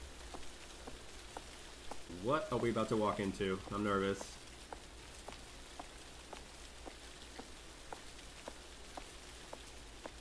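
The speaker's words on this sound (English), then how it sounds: "Whoa, look at the rain." Steady rain falls in the horror video game The Caregiver, a soft continuous patter with scattered drops heard throughout, while a person talks briefly partway through.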